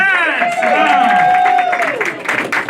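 A stand-up comedy audience claps through the whole stretch, a dense steady patter of applause with a sustained high whooping voice riding over it before it thins toward the end.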